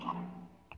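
A dog whimpers briefly inside a Legends of Runeterra card game match, a short faint whine followed by a small yip near the end, with no talking over it.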